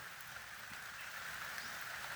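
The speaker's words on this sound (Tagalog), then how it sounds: "Umuulan dito sa amin mga idol." Rain falls outdoors in the Philippines in a steady, soft wash of hiss, unbroken and even throughout, with no talk over it.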